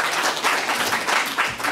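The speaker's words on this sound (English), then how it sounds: "big round of applause for Alex" An audience at a university lecture event in Amsterdam applauds steadily for a speaker coming to the front, a dense, continuous round of clapping filling the brief moment with no talk over it.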